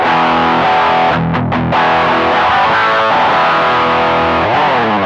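A heavily distorted electric guitar plays loud, thick high-gain chords and riffs through a ZOOM G1 X FOUR's Marshall-style high-gain preset, saturated and sustained, with no talking.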